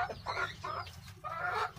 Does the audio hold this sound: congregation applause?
no